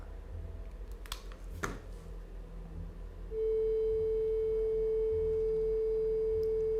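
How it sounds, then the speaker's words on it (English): A few soft clicks and taps, then a steady pure electronic sine-wave tone from a phone app starts and holds loud and unwavering to the end. "let's see if just a regular sine wave can put this out."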